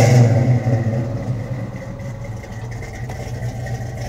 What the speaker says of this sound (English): Sounds fantastic too.